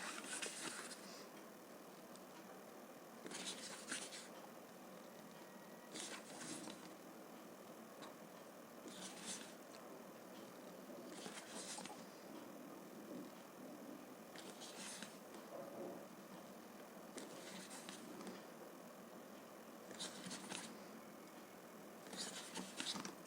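A pen or pencil scratches steadily across paper while lines are drawn for gold-filled artwork, a faint, close, continuous rubbing broken by brief louder strokes, with no talking.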